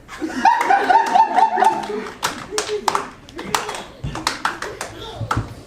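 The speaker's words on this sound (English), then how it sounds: "Please clap." Audience at a stage performance of A Midsummer Night's Dream, clapping in irregular bursts with chuckles and laughter mixed in, fairly close, while voices talk.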